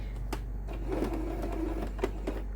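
Sewing machine back stitching through fabric, with faint, quiet mechanical ticking and short whirring bursts set against a low steady hum.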